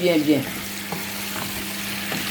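Food fries in a pan of hot oil with a continuous close sizzle, punctuated by a few soft knocks of stirring, and a brief voice at the start.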